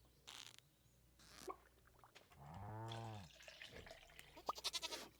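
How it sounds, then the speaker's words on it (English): A goat bleats in the farming game Stardew Valley, a drawn-out harmonic bleat near the middle, with clicky game sounds and a dripping, tap-like patter before and after. "This is my other goat right here, Brady."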